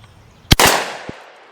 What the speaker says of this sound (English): let's shoot the 40-yard shot here